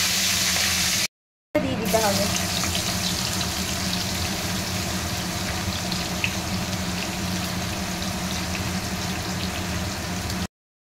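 Whole spices and bay leaves sizzle steadily in a hot wok while biryani is being cooked, a constant frying hiss with a brief dropout, as someone speaks over it.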